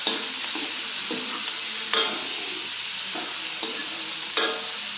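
Vegetables, meat and tomato sautéing in a hot pan for a bottle gourd (upo) dish, with a steady bright sizzle and several stirring scrapes and clatters spaced through it, close and without talk.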